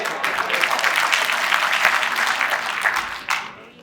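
An audience breaks into loud, sustained applause, a dense crowd of clapping hands that holds steady for several seconds before tapering off.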